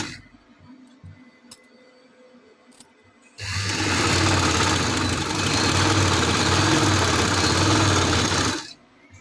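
An electric sewing machine runs steadily for about five seconds, stitching a fabric piping strip onto a garment, with a dense mechanical whirr that starts and stops abruptly.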